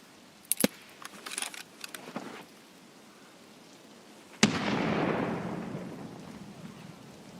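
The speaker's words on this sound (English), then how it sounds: "I'm gonna throw my own grenade." A thrown grenade goes off in the video game WETJOB: a few light clicks and rattles, then one sharp, loud blast followed by a long rumbling decay that fades slowly over several seconds.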